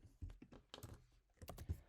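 Computer keyboard keys typed in a quick, uneven burst of close clicks and taps, fairly quiet, while writing GraphQL query code.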